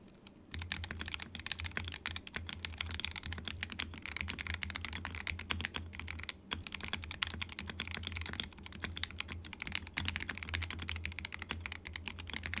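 Rapid, steady clacking of keys typed on a My Neighbour mechanical keyboard with all its internal foam removed, close and fairly quiet, continuous throughout with no voices.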